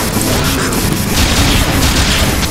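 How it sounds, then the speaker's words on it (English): Dense, continuous rumbling blasts of grenade explosions in Garry's Mod, an Imperial Guard versus Chaos battle, with booming low-end bursts layered over each other throughout and no pause. "The grenades are so bad!"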